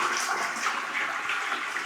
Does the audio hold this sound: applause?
no